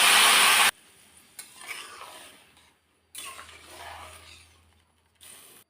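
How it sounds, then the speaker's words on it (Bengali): Boiled water is poured into browned rice frying in a pan for mutton pulao, a loud rush at the start, then softer sizzling and stirring scrapes in bursts with brief quiet gaps. "তারপর এখন আমি জলটা ফুটেই রেখেছিলাম দিয়ে দিলাম"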